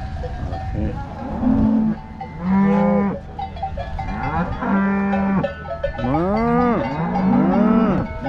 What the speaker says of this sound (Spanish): Ocho vacas.